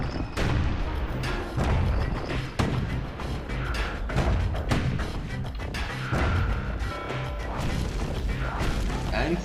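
Turrets firing in the video game Bastion: a rapid, dense barrage of sharp bursts and crashing impacts over a rumbling game soundtrack, with no pause through the whole stretch.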